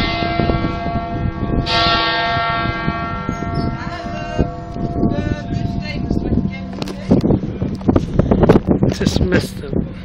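A church bell rings at Saint Peter's Basilica in Rome with long, sustained tones that swell and hang in the air. A fresh strike comes early on, while people talk nearby and crowd noise grows louder toward the end.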